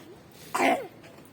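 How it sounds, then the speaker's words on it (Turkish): A child gives a single short, husky cough, close up, with quiet surroundings before and after. "Biraz öksürük var mi hala?"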